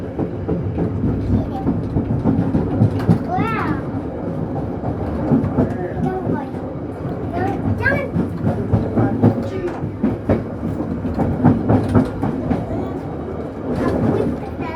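Matarmaja economy-class passenger train leaving Cirebon Perujakan station, heard from inside as steady wheel rumble and clickety-clack on the rails, with brief squeals and voices talking over it.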